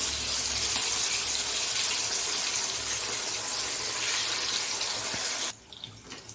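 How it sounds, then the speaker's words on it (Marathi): Kofta for Veg Maratha frying in hot oil, a loud, even sizzling hiss that carries on steadily and then drops away abruptly near the end. "तर मी आता तळून घेते. तेल गरम झालेलं आहे. गरम तेलात सोडायचं."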